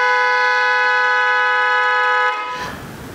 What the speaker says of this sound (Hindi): जैसे ही हम ब्लू तार लगाएंगे तो ये हॉर्न बोलना शुरू हो जाएंगे